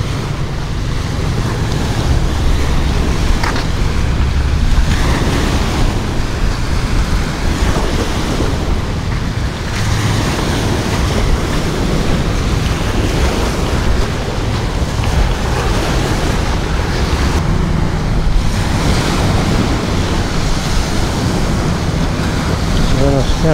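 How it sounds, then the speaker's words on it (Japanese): Wind gusts across the beach on Malapascua Island in the Philippines, a loud continuous rush with microphone buffeting mixed with surf washing ashore, no speech heard. "あ、この風といい。"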